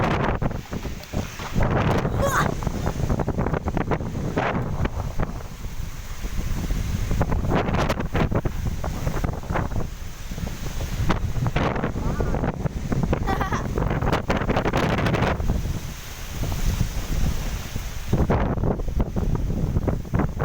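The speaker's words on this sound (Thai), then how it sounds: "สมุทรอ่าวไทยลมแรงมากเลยครับ" Strong wind on the Gulf of Thailand coast, loud gusty buffeting roaring over the microphone in surging waves, with someone talking briefly underneath.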